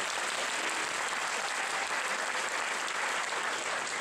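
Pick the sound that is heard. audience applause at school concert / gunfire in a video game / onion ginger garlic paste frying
audience applause at school concert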